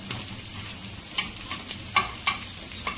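Evening snacks fry in hot oil over a high flame, giving a steady sizzle broken by sharp clicks and scrapes as the pieces are turned over.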